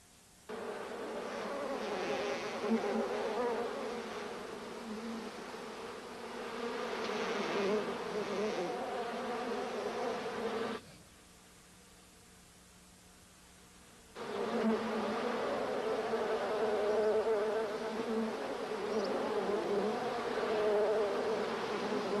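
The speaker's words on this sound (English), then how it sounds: "the footage of Mary fighting these bees" A dense swarm of bees buzzing loudly and continuously, dropping to a near silence midway before the droning returns just as strong.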